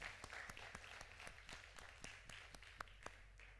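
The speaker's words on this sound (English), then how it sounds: "Yeah, you can clap for that." Church congregation applause, sparse and faint, with distinct individual claps landing at a regular rhythm of roughly four per second over a quiet room.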